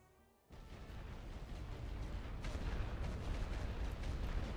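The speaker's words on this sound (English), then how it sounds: "I imagine they'll probably open with an artillery barrage somewhere." An artillery barrage opens abruptly in a WW1 Western Front strategy game, a steady, heavy roar of distant shellfire and explosions that swells slightly louder and continues unbroken.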